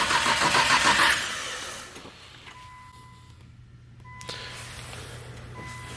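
A Nissan Skyline GT-R R34 engine cranks over briefly with fuel cut, a whirring starter that stops after about a second, followed by a quiet low hum and faint clicks.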